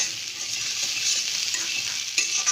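Pointed gourd pieces that were fried earlier are stirred in a pan, and a steady bright sizzle of frying runs through the whole stretch, with light scraping and stirring close by and one sharper clink near the end.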